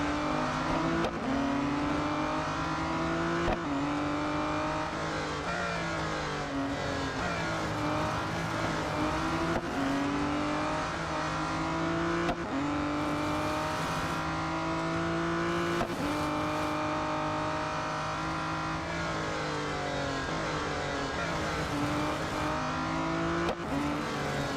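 An Aston Martin Vulcan AMR Pro races in Real Racing 3, its engine loud and continuous, rising through revs and dropping sharply at each gear change, with occasional tire squeal.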